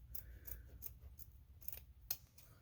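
Fabric scissors snip excess material off a placemat in quiet, close, evenly spaced cuts, about eight crisp snips in under three seconds.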